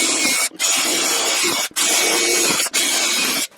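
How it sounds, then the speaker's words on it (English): A power drill bores holes through the frame of a parts tumbler in three steady, high whining runs, each stopping briefly before the next. "now I just need to drill holes in here and bolt it together"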